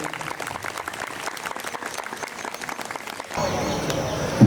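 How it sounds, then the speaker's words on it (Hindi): Applause from a crowd at an outdoor International Day of Yoga event in Rakh Bagh, Ludhiana, steady clapping for over three seconds before shifting to a louder, denser wash of noise near the end. "तालियां रुकनी नहीं चाहिए।"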